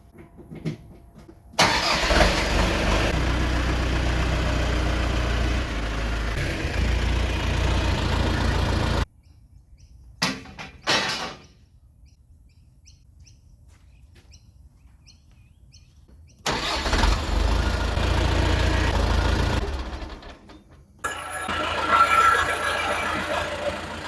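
A farm tractor engine runs in two long stretches, a steady loud rumble that cuts off abruptly, with quieter outdoor ambience and faint bird calls in between, no talking.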